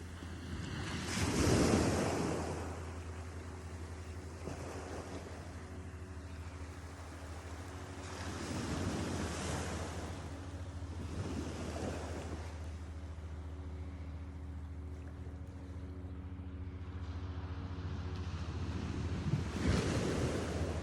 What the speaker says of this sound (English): I'll record some better videos of the waves